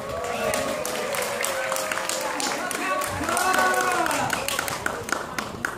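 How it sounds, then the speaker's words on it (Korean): At the closing awards ceremony of a Lions Club sports day for invited foreign residents, an audience claps as a trophy goes to the third-place Thai team, with scattered hand claps running under an announcer's voice and background chatter. "전달할 때 우리 큰 박수 부탁드리겠습니다"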